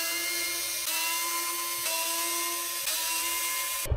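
A power driver whines steadily while backing screws out of the bed of a Redcat COE Hauler RC truck, a high sustained tone with three brief dips as the motor pauses and restarts, close and loud with no talk.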